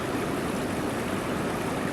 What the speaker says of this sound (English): The first of which is the bubbling brook, the stream.